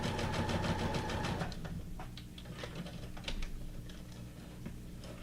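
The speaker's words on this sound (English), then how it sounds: "Put this little flower up here. Sew it on. I'm gonna quickly sew it on." Sewing machine stitching a paper flower onto a junk journal page: a quick rattling run of needle strokes for about a second and a half, then softer intermittent clicks and handling noise, recorded faintly with no voice.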